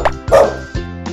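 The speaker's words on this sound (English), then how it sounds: "D is for dog" A dog barks sharply three times in quick succession, loud and close, with short yipping tones.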